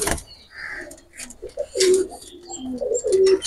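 Two red pigeons let loose coo in low, throaty bursts, with a couple of distinct rolling coos near the end over faint background noise.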